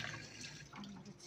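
Water splashes and trickles as freshly kneaded rasbari dough is rinsed by hand in a kitchen, a close, busy sloshing with faint dripping that runs steadily throughout.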